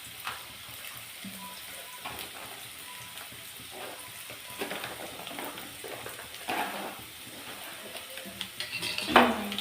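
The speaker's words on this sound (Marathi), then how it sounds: "त्याला फक्त फ्राय करून घ्यायचं." A stuffed tiffin snack fries in a pan with a soft, steady sizzle. Occasional utensil clinks and scrapes grow a little louder near the end.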